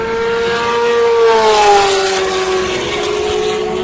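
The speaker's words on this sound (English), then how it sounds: "Now what I'll do is just sit here and let you listen to the cars" Race cars at the Le Mans 24 Hours passing at night, loud engine whine with a falling pitch as a car sweeps by, then steady motor noise continuing in the distance.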